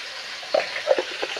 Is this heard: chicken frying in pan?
yes